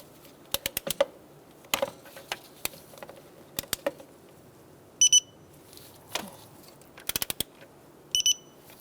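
A torque wrench set to 74 inch-pounds clicks repeatedly while valve cover bolts on a 2007-2012 Nissan Altima 2.5L four-cylinder are tightened, with sharp close ticks and a few quick electronic beeps.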